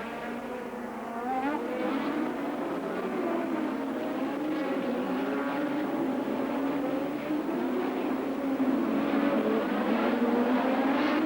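Formula 1 cars race through the streets of Monte-Carlo at the 1987 Monaco Grand Prix, with the leader's engine droning and rising steadily, loud and continuous throughout with no talk.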